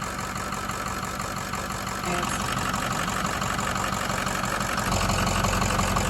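A Ford F250 engine with a newly fitted alternator idles with a steady low rumble that holds throughout, heard at moderate distance with faint talking.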